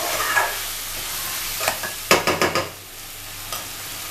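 Ingredients mixed together with salt in a pan, a soft sizzle under a quick run of several scraping stirs, then quieter.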